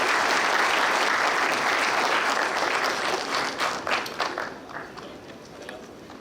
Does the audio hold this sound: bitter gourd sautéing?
no